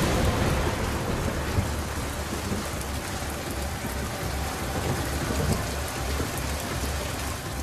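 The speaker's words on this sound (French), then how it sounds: "Les naufragés rentrent sous une pluie battante." Heavy rain pours down on an island shore, a loud, continuous hiss with low rumbling beneath it.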